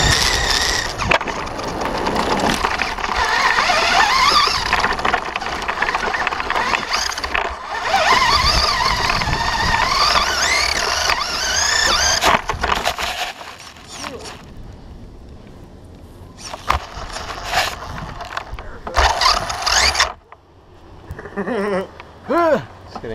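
Latrax and Traxxas RC cars driving over concrete, a whiny electric motor buzz rising and falling as they speed around, with people talking throughout.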